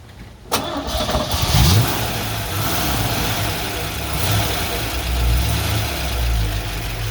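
A 1957 Chevrolet Bel Air's 283 V8 with solid lifters cranks and fires up, then settles into a loud, rough idle with a steady mechanical lifter ticking running through the rumble.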